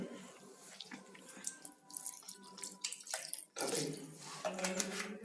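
Vinegar is poured into a pan while frying crispy KFC-style chicken at home, giving a quiet trickling splash that grows briefly louder near the end, close by and alone.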